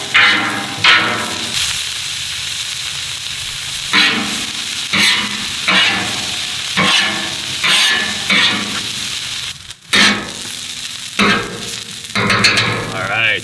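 Sweet white onions sizzle steadily on a Blackstone griddle, broken by repeated scraping strokes of a spatula stirring them across the hot flat-top, close and loud.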